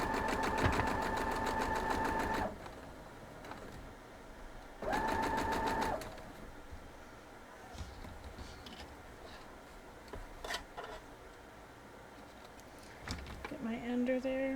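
A sewing machine stitching a quilt block runs in two close, steady, buzzing bursts of a few seconds each, then quieter handling clicks and rustles follow, with a final short whir at the end.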